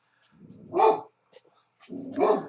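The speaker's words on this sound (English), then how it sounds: "my dog goes crazy, barking outside at something" A dog barks outside in two loud, rough bursts about a second apart, the second longer and more drawn out, with brief quiet between them.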